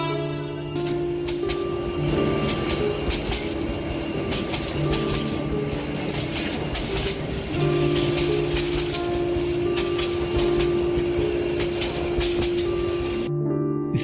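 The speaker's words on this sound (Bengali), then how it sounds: "স্টেশনে ট্রেন এসে থামতেই আমি ট্রেনে উঠলাম।" A train rolling into a station at night gives a steady loud rumble with sustained tonal hums and clatter for about fourteen seconds, with no talking.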